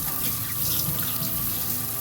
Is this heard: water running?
yes